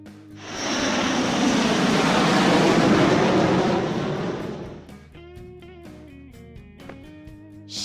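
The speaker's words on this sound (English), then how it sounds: "Airplane." An airplane roars loudly, rising and holding a broad engine rush for about four seconds before fading into a quieter tonal hum.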